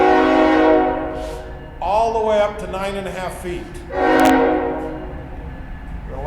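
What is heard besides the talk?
train going by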